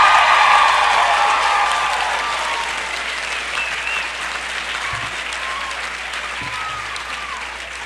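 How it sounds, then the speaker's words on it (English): Applause from a large crowd at a college commencement ceremony, loud and sustained, slowly fading as it goes, with faint birdlike chirps and a few low thumps underneath. "here is the gratuitous applause that I'm seeking"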